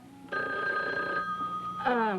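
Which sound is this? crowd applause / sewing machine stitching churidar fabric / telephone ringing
telephone ringing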